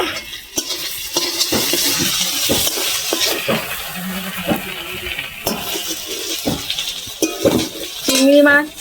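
Shrimp fry in a pan, giving a constant sizzle broken by frequent scraping and clinking of a spatula against the metal, busy and close, with a sharper clatter near the end.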